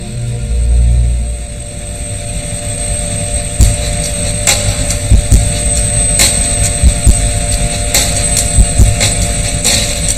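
Old Russian Mi-17 helicopter in flight over the Himalayas, a loud steady rotor and engine drone with shuddering rumble and repeated sharp thumps and rattles throughout.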